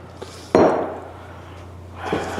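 A rocks glass being handled, one sharp clink followed by a ringing tail, then a softer knock near the end, close by with no talk.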